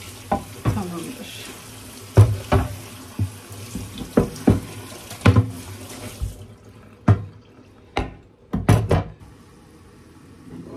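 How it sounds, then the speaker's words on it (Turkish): Water from a kitchen tap splashes while a cutting board is washed in the sink. Close, uneven bursts of running and splashing water come with knocks of the board, then fall to separate clatters and drips. "Hemen şu tahtamı yıkayayım."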